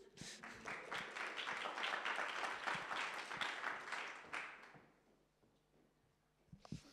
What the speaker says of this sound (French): on peut applaudir Vincent Réveillé